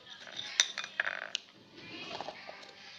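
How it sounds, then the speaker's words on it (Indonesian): Homemade slime mixture stirred in a bowl with a utensil: scattered clinks and light scraping against the bowl, close and fairly quiet, with no talking. "Oke, kita udah tambahinnya pokoknya banyak. Dan kita aduk sampai merata."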